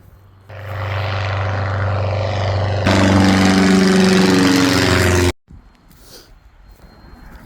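A warbird's propeller engine runs loudly at Earls Colne airfield, a steady idle that steps up in intensity partway, then cuts off abruptly, leaving quiet background noise.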